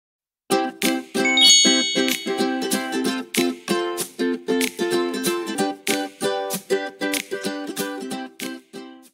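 Bright bell dings struck over and over in a quick, steady rhythm for about nine seconds, loud and close with ringing overtones and no voices.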